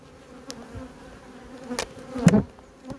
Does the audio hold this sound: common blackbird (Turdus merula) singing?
no